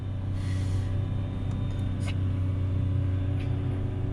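A Mazda RX8 rotary engine idles steadily right after starting, a constant low rumble close by with a few light clicks and taps over it and no speech.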